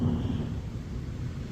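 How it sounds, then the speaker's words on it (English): Thunder rumbles during a rainstorm over a park campsite, a deep, loud, rolling low boom that fades slightly over a second and a half, with no voices. "as you can tell, we got some thunder"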